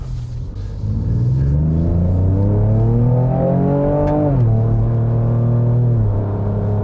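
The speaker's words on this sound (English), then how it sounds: "In sport mode, you can hear the transmission changing up and down" Loud engine revving up as a 2025 Ford Ranger Raptor pickup accelerates in sport mode, pitch climbing then dropping sharply at a gear change before rising again.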